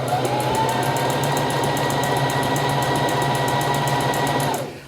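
A sewing machine runs continuously at steady speed, its needle mechanism producing a fast, even rhythmic clatter over a constant motor hum, loud and close, then winding down to a stop at the end.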